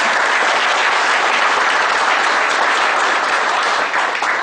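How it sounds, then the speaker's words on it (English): Loud, dense applause from a workshop audience thanking the chief guest at an Income Tax Act seminar, a steady wall of clapping sustained throughout with no talk. "Please thank him with a big round of applause."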